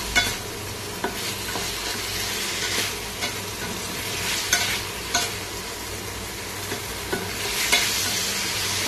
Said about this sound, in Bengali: তো ভালো করে কষিয়ে নিচ্ছি বড়াগুলো দিয়ে।